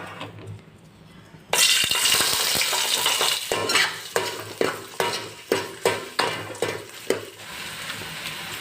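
Ginger and garlic sauté in hot oil in a pan, starting from a quiet moment before a sudden loud sizzle bursts in, then continuing under repeated sharp spoon-on-pan stirring knocks at a fairly regular rhythm.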